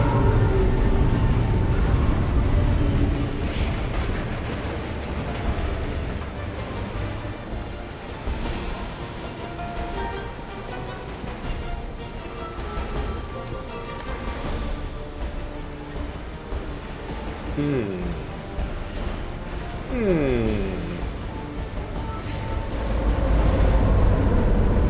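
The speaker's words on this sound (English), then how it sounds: "Trains are pretty loud here." A train passes in the video game Alpha Protocol, a loud, continuous broadband rumble and rattle that swells at the start and end and dips slightly in between.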